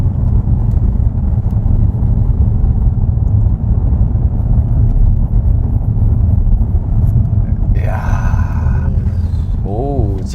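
A Mercedes CLE coupe takes a sharp corner hard, its engine and road rumble loud and steady from inside the cabin, and brief voices come in near the end.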